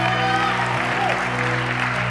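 A church congregation claps together in praise during a Sunday morning service, a steady wash of applause filling the room over a sustained musical hum, with a voice briefly audible underneath.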